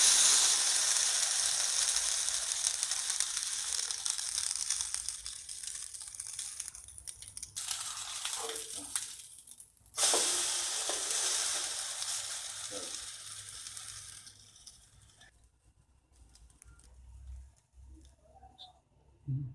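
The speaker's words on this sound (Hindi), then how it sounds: "इस तरह हम अब इसको फ्राई कर लेंगे।" French toast sizzling in a hot pan, a steady broadband hiss of frying with faint crackles that dips and swells as the bread is moved, fading quieter toward the end.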